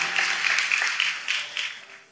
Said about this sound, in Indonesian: Tepuk tangan yuk buat Tuhan kita Yesus Kristus